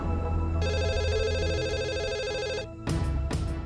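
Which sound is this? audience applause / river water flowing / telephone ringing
telephone ringing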